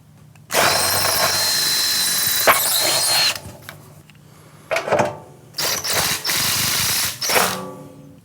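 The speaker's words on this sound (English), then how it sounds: "after you drill the concrete through the pre-punched holes of the track" Loud bursts of drilling into concrete through a sliding glass door track, a long grinding run followed by several shorter stop-start bursts, close and harsh with no talking.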